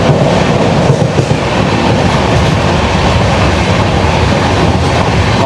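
Howrah–Chennai Mail train passing near the Odisha border, a loud continuous roar of wagons with rhythmic clickety-clack and faint wheel squeal, steady throughout without voices.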